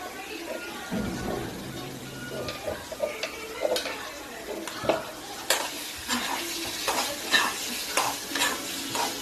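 Green garlic chutney mixed in a pan, with soft sizzling under repeated spoon scrapes and clinks against the metal that grow more frequent toward the end, fairly quiet.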